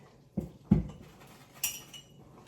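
Hot glass jam jars for homemade mango jelly being moved, a few clunks and clinks of glass set down close by, with a brighter chink near the end and otherwise quiet.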